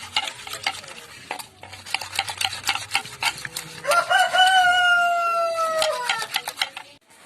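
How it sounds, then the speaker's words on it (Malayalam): A rooster crows loudly in a long, falling call partway through, over steady scraping and rubbing as a fish head is scrubbed with salt in a Kerala home kitchen. "അവിടെ നമ്മുടെ പൂങ്കോഴിയുടെ സൗണ്ടൊക്കെ നിങ്ങൾക്ക് കേൾക്കാമല്ലോ അല്ലേ?"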